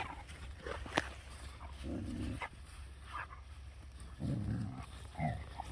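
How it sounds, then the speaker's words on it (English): Young dogs wrestling and playing, with soft growls, grunts and a few yips, fairly quiet and close. "Puppies are playing."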